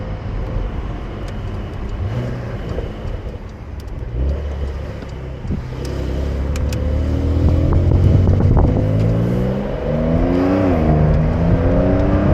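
A Porsche 911 Carrera 4S Cabriolet engine in sport mode rises steadily in pitch as it accelerates through the gears, loud and close, with a brief dip between shifts.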